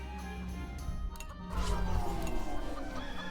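Cartoonish chicken clucks from the video game Fuga 2, a short burst of busy clucking over a steady game soundtrack, growing fuller and louder midway with no talking.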